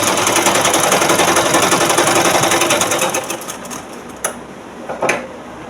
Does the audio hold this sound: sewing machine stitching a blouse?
yes